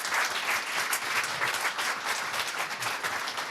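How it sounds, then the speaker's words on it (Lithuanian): An audience at an awards ceremony in a restaurant hall claps in sustained, even applause that stays dense and loud throughout. "Tai plojimai visiems, kurių nėra šioje salėje."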